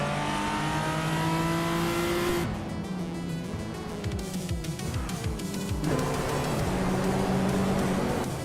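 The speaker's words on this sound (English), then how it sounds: "Mark Marlowe is driving a 1989 Mazda RX-7 Turbo Dot" A 1989 Mazda RX-7 Turbo in a racing video game, its engine droning and revving through gear changes with a car passing by, loud and continuous with no voices.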